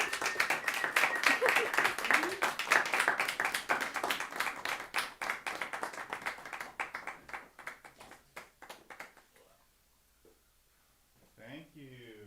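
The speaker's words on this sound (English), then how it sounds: "Let's hear it again. Another round of applause." An audience at a poetry reading claps loudly and steadily for about eight seconds, individual claps crisp and dense, then the applause dies away into near quiet with a brief voice at the end.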